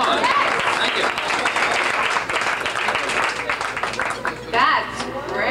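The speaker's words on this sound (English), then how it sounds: "Give yourselves a round of applause." Theatre audience at a Broadway curtain call clapping in a loud, sustained wash with scattered whistles and cheers, voices mingling beneath the applause.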